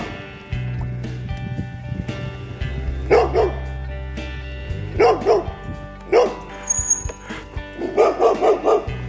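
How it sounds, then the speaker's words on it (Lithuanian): A neighbours' dog in a village barks in several sharp, repeated bursts, fairly close, over a low steady hum while cyclists ride past. "Dar truputį pamynus prisistato kaimynų šuo."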